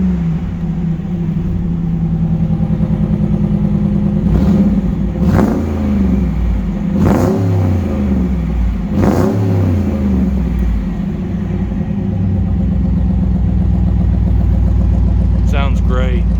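Mr. Norm's Lil Red Truck with a K&N cold air intake idles with a deep rumble, then blips the throttle in three sharp revs before settling back to a loud, steady idle.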